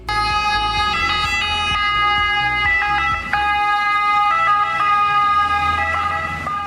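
An ambulance boat races along a canal in Venice. Its loud, close emergency siren wails continuously in a rising and falling pattern over a low engine rumble.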